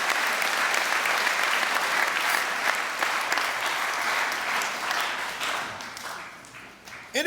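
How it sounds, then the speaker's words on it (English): Students at a Martin Luther King Jr. school assembly applaud their teachers, a dense, steady wash of clapping from a large crowd that holds loud and then gradually thins toward the end. "Students, give them a round of applause"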